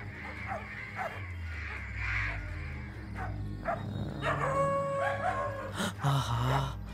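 A dog barks and yips a few times at a moderate distance, mixed with voices and background household noise.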